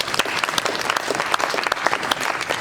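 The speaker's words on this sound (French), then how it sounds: "applaudissez pour vous-même." A theatre audience at a storytelling show claps steadily, dense individual claps close and distinct with no talk, a lively sustained round of applause.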